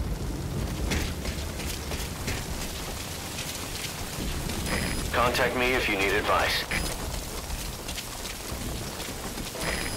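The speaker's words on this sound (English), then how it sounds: "That rain just won't let up." Steady rain falls throughout a night scene in the video game Metal Gear Solid V: Ground Zeroes, with faint thunder-like rumble, while a voice speaks over the downpour partway through.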